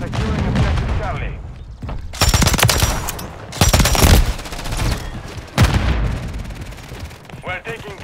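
Machine gun fire in Call of Duty Modern Warfare 3 multiplayer, the Pulemyot 762 on the Stash House map, sounding in several loud sustained bursts separated by short gaps, with game voice callouts between them.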